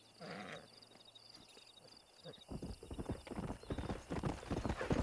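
A stallion in Red Dead Redemption whinnies briefly, then its hooves clop in a quick, growing rhythm that grows louder toward the end, with no talk.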